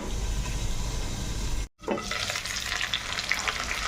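Panch phoron spices fry in hot oil for a pumpkin dish, giving a steady close sizzle that cuts out briefly and then returns brighter and hissier, like a fresh addition to the pan.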